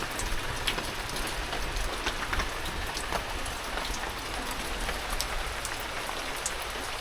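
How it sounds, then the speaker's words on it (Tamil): Steady rain falls on a road in a Western Ghats forest, a dense even patter with scattered sharper drops, fairly soft and continuous with no voices. "மழை வர்றது நல்லா இருக்கு"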